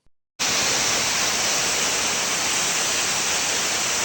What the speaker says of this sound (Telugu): ఈరోజు మనం కేరళలో ఉన్న తుషారగిరి వాటర్ ఫాల్స్‌ని చూసొద్దాం రండి.